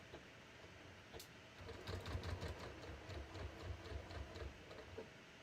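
A home sewing machine with a wide presser foot and offset needle stitches through a denim jeans seam, a steady low mechanical whir with quick rhythmic needle ticks running close by after a quiet start.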